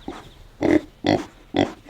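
Pigs on a small farm oink and grunt in three loud, close bursts roughly half a second apart, with quieter grunting and faint background noise between them.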